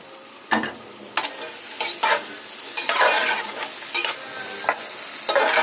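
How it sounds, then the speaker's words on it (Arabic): Chopped onion sizzles and fries in a pan while a utensil stirs it in repeated scraping strokes, steady and close, with no one talking. "هناخد الاول البصله هنشوحها الاول مع بعض"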